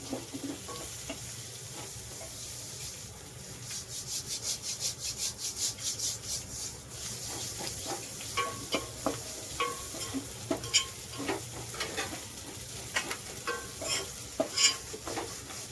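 Spinach bhaji with moong and masoor dal and grated coconut being stirred in a pan, giving a steady sizzle under repeated scraping strokes, with a quicker rhythmic patch partway through and scattered sharper clinks near the end.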